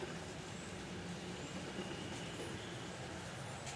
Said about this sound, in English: the rail inspector came through in this high railer truck